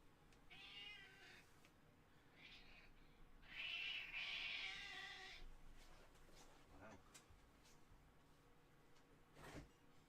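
A house cat meows several times at moderate distance, the calls rising and falling in pitch with a longer drawn-out cry in the middle, over faint room background.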